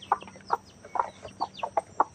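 Village chickens feeding nearby give a series of about eight short, sharp clucks at an uneven rhythm over a quiet rural background.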